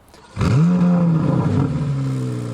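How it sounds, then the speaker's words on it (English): A loud 2023 Corvette Z06 exhaust with centered floating exhaust bezels suddenly roars to life, holding a deep, steady revving growl that slowly eases off, close by with no talking. "This floating design was key to the precise tuning in the exhaust note"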